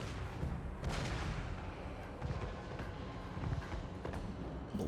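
Cannon and hand-cannon fire in the Total War Warhammer 3 battle game, dense repeated booming blasts and crackling volleys over a continuous roar of battle noise.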